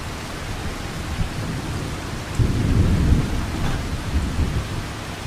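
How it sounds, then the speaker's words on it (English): Thunder and rain in the video game Farming Simulator 25: a continuous hiss of rainfall with a deep rumble of thunder rolling in midway and fading slowly. "it's still thundering"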